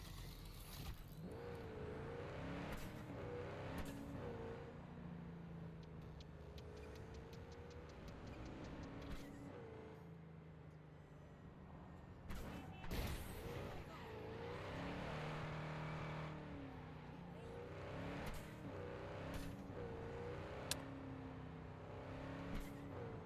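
A car in Cyberpunk 2077 drives with a steady engine drone, rising and falling through revs with occasional ticking and a sharp knock, faint and continuous without talk.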